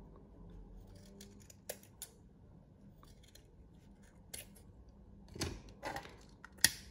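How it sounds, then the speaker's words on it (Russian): Sharp scissor snips trimming silk covering a Christmas ornament ball, a few scattered clicks and cuts spaced irregularly over quiet background hiss, close by. "И все лишнее подрезаю."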